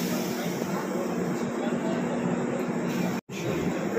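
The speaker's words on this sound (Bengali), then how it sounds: "ট্রেন এখন ছেড়ে দিয়েছে শিয়ালদা থেকে" Humsafar Express train running after leaving Sealdah, a steady close rumbling roar heard from on board, broken by one brief dropout near the end.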